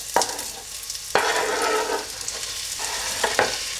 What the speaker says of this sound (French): lorsque c'est chaud, j'ajoute mes oignons